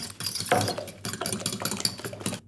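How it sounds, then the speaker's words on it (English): Eggs, feta and pepper whisked together in a bowl for a picnic pie, a quick irregular run of tapping and scraping strokes, close and fairly loud, ending abruptly. "Whisk that all together."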